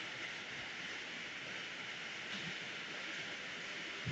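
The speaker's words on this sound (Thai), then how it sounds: "ฝนตกมื้อนี้" Steady rain pouring down outdoors at a Thai village home, a dense, even hiss that holds at the same level throughout with no voices.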